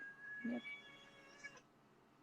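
A cat meows once, briefly and fairly close, in a quiet room, followed by faint low background noise.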